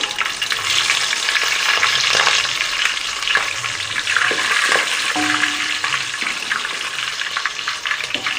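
Green chillies frying in hot oil for Andhra-style sambar, a steady dense sizzle that runs unbroken and fairly loud throughout, with a few faint clinks of a utensil partway through.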